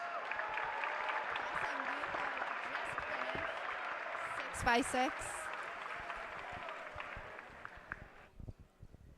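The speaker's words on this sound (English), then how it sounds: "you could hear the crowd just then clapping" A crowd applauds at the Rubik's cube North American Championship 6x6 finals, steady clapping filling the hall for several seconds before tapering off, with a voice speaking over it.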